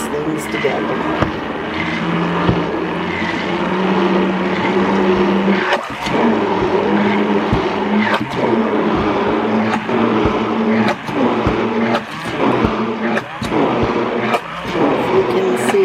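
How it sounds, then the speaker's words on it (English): Cordless immersion blender whirring through banana zucchini bread batter, a loud steady motor drone with shifting pitch and occasional thumps, running close throughout the stretch. "I'm just going to take the immersion blender, stick it down in there, put the battery pack on, hit the safety, and let it blend these things together"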